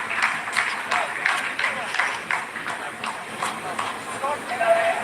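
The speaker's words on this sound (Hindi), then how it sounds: "आप इस तालियों के गड़गड़ाहट को सुन सकते हैं" Scattered clapping from scientists in a mission control room after a lunar landing phase, moderately distant and uneven, with a commentator's voice talking over it throughout.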